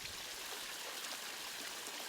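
Water from a pump-fed header pond tumbles down a built backyard pond waterfall into the lower pond, a steady, soft, continuous trickling rush with no one talking.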